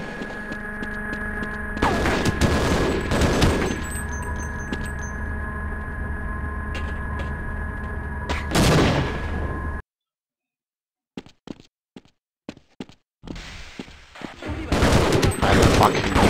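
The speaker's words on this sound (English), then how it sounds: "Stop shooting me." Gunfire in the Half-Life video game comes in loud bursts of rapid shots, a sharp cluster early, another near the middle, then a brief silence before scattered and renewed firing, over a steady background hum.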